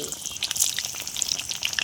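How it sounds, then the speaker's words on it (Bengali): Eggplant pieces frying in hot oil in a wok, a close, continuous crackling sizzle with dense sputtering pops throughout, no voices. "তেলটা গরম হয়ে গেছে, এবার বেগুনগুলো ভেজে নেবো।"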